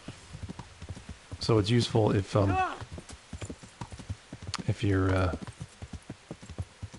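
Steady clip-clop of hooves trotting at an even pace in the video game Kingdom Come: Deliverance runs underneath a voice, with a short horse whinny partway through.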